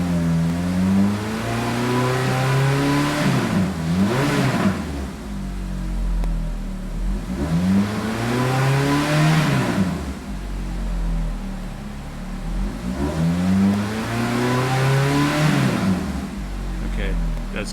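A Ferrari 430 engine is revved to about 4,500 rpm in three rising and falling pulls, loud and close, with a voice speaking over the engine.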